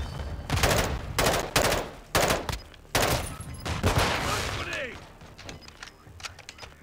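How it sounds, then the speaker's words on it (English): Call of Duty: Modern Warfare 2 combat with repeated close bursts of gunfire in a rough rhythm, followed by a drawn-out rumbling blast that fades into quieter scattered sounds, with game voices mixed in. "I'm taking enemy fire!"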